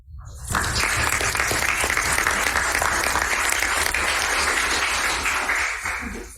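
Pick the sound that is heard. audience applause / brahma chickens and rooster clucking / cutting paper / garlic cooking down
audience applause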